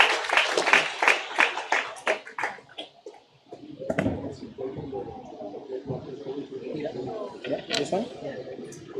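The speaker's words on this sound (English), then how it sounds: "Please welcome with a big round of applause." An audience at a charitable eye centre's anniversary event applauds to welcome the guest of honor, a burst of scattered clapping that fades into people talking.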